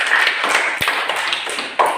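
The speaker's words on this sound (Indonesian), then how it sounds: "Kita berikan tepuk tangan untuk Renol dulu" Young primary-school pupils in a classroom applaud a classmate, a loud burst of dense, overlapping hand claps lasting a couple of seconds.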